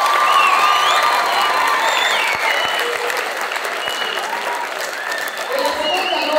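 Sustained applause from an audience at the Italian school in Addis Ababa, loud and steady for several seconds with some cheering and scattered voices mixed in.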